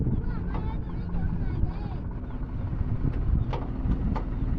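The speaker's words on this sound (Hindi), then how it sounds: "ट्रैक्टर घर पे जा रहा है" A tractor drives away home from a wheat field after harvest, with a steady low engine rumble at moderate distance and faint voices over it.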